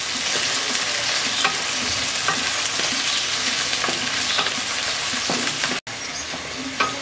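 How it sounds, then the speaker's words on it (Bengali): Onions with whole garam masala frying in a pan for a pigeon meat rezala, giving a dense continuous sizzle close by with repeated scrapes and clicks of stirring and one brief dropout near the end. "পেঁয়াজটা কিছুক্ষণ ভাজবো"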